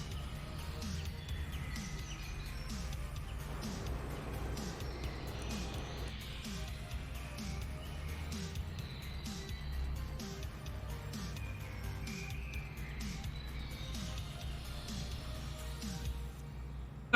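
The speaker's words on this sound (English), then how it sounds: "Those are some very noisy birds." Birds chirp and tweet steadily in a Farming Simulator 22 farm setting, small repeated calls over a constant low engine-like drone, continuous throughout.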